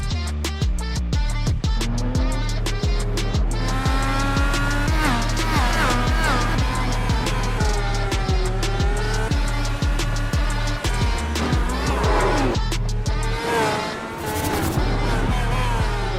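IndyCar race cars in a racing video game roar past in a continuous engine whine with rising and falling pitch and rapid gear-shift pulses, loud and close throughout.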